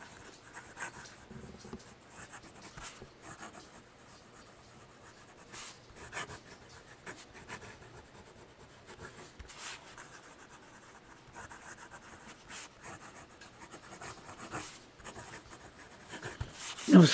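A MarteModena Citizen Moscow fountain pen writing fast on paper, a soft continuous scratch and rub of nib on page with brief pauses between strokes, close and quiet.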